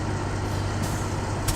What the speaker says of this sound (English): Air brakes on, we dropped it into neutral.